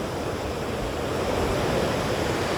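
Waves break and wash steadily at K-38 beach in Rosarito, a continuous broad roar of surf with no voices, loud and constant throughout.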